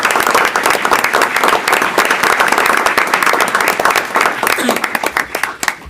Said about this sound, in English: how about a huge round of applause for our debate?